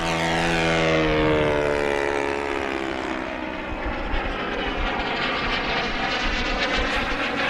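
An FMS 1700mm Corsair RC plane on a 6S setup with a new propeller flies past, its loud propeller drone sliding down in pitch as it passes close, then fading into a rougher, more distant hum.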